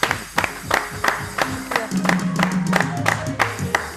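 A studio audience at a Pakistani comedy and entertainment show claps in loud, scattered bursts that keep recurring; music tones sustain beneath them and the clapping builds in the middle.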